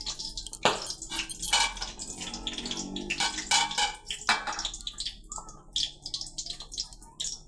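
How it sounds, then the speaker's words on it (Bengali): Rohu fish curry gravy with ridge gourd and potato bubbles and spatters in a pan, with close wet pops and drips coming in uneven bursts. "ভালোভাবে এগুলো ঝোল ফুটে আসবে আবার আরেকবার"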